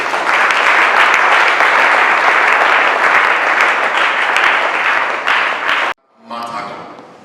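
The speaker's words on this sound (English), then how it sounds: "Can we give just a clap of applause?" A church congregation at a Project Day celebration applauds loudly and steadily for about six seconds before it cuts off abruptly, followed by a brief pause and a speaking voice.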